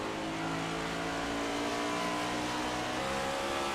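Race cars running bumper to bumper at Phoenix in a racing video game, with a steady dense engine roar that holds near and loud throughout, no talking.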